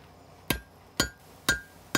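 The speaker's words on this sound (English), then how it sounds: "Right now I'm just hammering on the billet a little bit real quick to close up any gaps" Hammer blows on a meteorite steel billet during forging for a folding knife, four sharp metallic strikes evenly spaced about half a second apart, each ringing briefly before the next.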